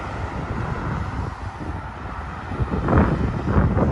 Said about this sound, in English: This is ice cold wind.